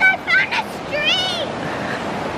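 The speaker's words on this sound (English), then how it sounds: "Guys, I found a stream." A small outdoor stream flows with a steady, even rush of water, and a few high chirps rise briefly above it near the start.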